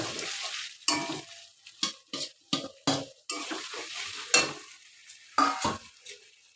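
Already-fried vegetables — capsicum and tomato among them — tumble into a hot pan for navratan korma, giving sharp bursts of sizzling and scraping stirs in an irregular rhythm, close and fairly loud with brief quiet gaps between strokes.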